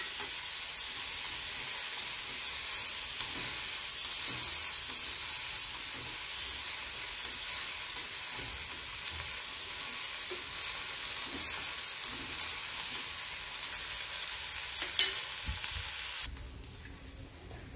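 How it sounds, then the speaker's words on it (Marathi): Peanuts frying in oil in a pan, a dense continuous sizzle with occasional stirring clicks that cuts off near the end, leaving quiet room tone. "थोडेसे तेल घालते, थोडेसे दाणे फ्राय करून घेऊ"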